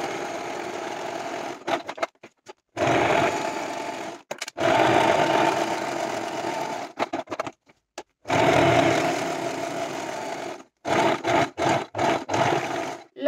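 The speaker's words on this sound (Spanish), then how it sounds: "Y nos vamos a ir a la máquina. Y vamos a coser desde arriba." A domestic sewing machine stitching fabric for a simple zippered pouch runs in several sustained whirring bursts with short pauses and a few quick stop-start pulses, close and loud with no talking.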